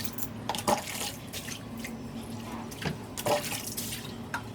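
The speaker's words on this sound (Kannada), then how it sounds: "ಇದೆಲ್ಲ ಕ್ಲೀನಿಂಗ್ ಕೆಲಸ ಸ್ವಲ್ಪ ವಾಶ್ ಮಾಡ್ಕೊಳ್ತಾ ಇದ್ದೀನಿ" Tap water runs and drips while dishes and cleaning items are washed at home, a soft, uneven splashing with occasional louder clinks and splats.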